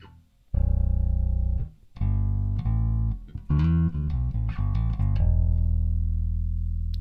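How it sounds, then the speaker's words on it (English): Glarry five-string bass guitar played with all volume and tone knobs turned fully up, ringing out a loud series of sustained, deep notes and short note runs on its own, with the last note decaying slowly. "here's a quick sound demo of the various tones that you can get"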